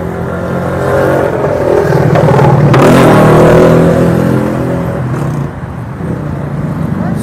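Road traffic on a busy toll road at evening rush hour, with a car or motorbike revving and accelerating close by, swelling loudly in the middle and fading to a steady roadside rumble.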